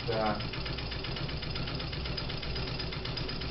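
A treadle sewing machine runs steadily during free motion quilting on a gingham quilt, its fast rhythmic mechanical clatter continuing at moderate level beneath a person talking.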